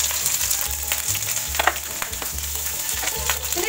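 Onion, torn dry red chilli and mustard seeds fry in hot oil for a Kerala yam erissery, giving a loud, continuous crackling sizzle with no voices.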